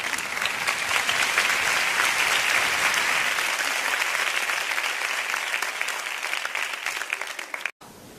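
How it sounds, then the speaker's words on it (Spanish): Loud, dense applause from a large audience at a Lakewood church conference, a sustained roar of clapping that holds strong for most of the stretch, then thins and cuts off abruptly near the end. "Un aplauso fuerte a Cristín."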